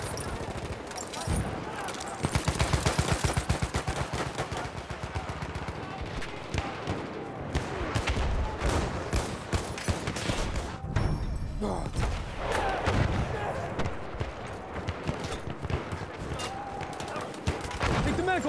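Dense battlefield gunfire in a Battlefield 1 Conquest match, sustained machine gun bursts mixed with scattered shots and heavy thuds, loud and continuous for the whole stretch, with a voice speaking over the din.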